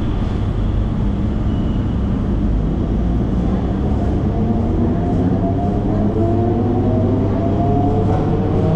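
Suburban train on the Velachery–Ponneri line in Chennai pulling out from Kotturpuram station, a loud continuous rumble and clatter of wheels on rails with rising motor whine, steady and close throughout.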